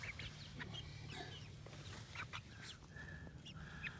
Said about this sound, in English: We'll come out to feed the chickens.